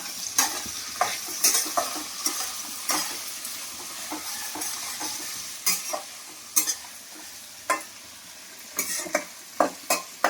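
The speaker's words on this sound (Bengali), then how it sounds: "পেঁয়াজটাকে ভালো করে ভেজে নেবো" Chopped onions sizzle in hot oil in a pan while a spoon stirs and scrapes them, making irregular sharp clinks and knocks over a steady frying hiss, with no talk.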